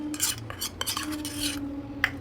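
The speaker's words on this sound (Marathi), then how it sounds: "खालच्या बाजूला बटर आहे म्हणून वरच्या बाजूला इथे लावून घेते" A knife spreads butter over sandwich bread sitting in a pan: a run of short, rough scraping strokes, close and fairly clear, over a steady low hum.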